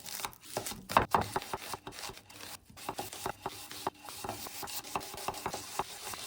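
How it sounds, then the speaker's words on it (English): Onions being chopped with a knife on a cutting board, a steady run of crisp, close knife taps with a few louder strikes near the start, no talking. "Chop the onions."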